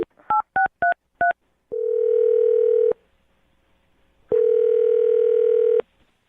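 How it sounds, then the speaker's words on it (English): A phone number is keyed in on a telephone during a radio call: five quick keypad tones, then two long, steady ringing tones separated by a pause, all clear and close with no talking. "I'm going to dial her phone number right now"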